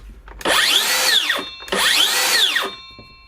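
A Makita GSH05 40v blade-left cordless circular saw runs free twice, each time spinning up to a loud high whine, holding for about a second and winding down, close by with no talking.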